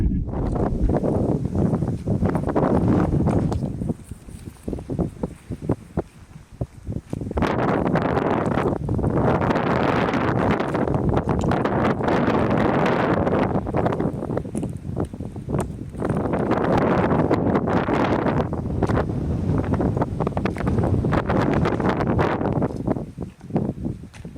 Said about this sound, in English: Trail, a lot of wind.